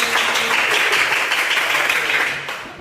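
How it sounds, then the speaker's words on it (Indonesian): A classroom of students claps for a classmate in a short, dense burst of applause that holds steady and tapers off near the end. "Bagus, tepuk tangan buat ini."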